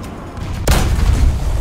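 A single heavy tank cannon blast from a T-72B in War Thunder booms out suddenly, loud and close, followed by a rolling low rumble.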